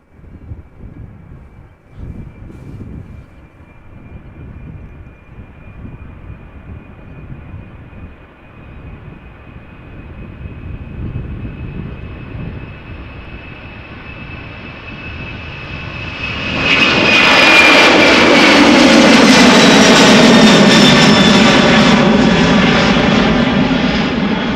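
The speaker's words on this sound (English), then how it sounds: "TUI flight 3105 going to Bodrum. It is a 767-300ER." A TUI Boeing 767-300ER jet bound for Bodrum at Amsterdam Schiphol beside the Polderbaan runway, a distant engine whine building slowly before a loud, broad engine roar swells in and holds near the end.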